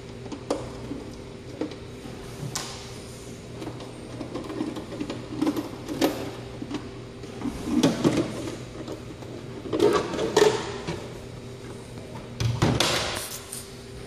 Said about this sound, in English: there's four Phillips head screws. I've already removed the two on that side. I'll take these two out